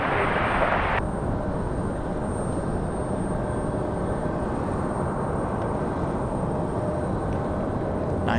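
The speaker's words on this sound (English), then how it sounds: "Nice touchdown here for the E175." An Embraer E175 airliner landing on a runway at an international airport, a steady, moderately loud roar of engines and rushing air that holds evenly throughout, with a brief brighter hiss cutting off in the first second.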